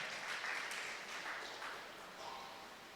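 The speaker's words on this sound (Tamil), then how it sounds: "சுகி சிவத்துக்கு ஒரு கைத்தட்டு கொடுங்க." An audience at a Tamil pattimandram-style spiritual talk applauds for author Suki Sivam, a steady wash of many hands clapping that holds for a few seconds at moderate distance, then slowly thins without any voices.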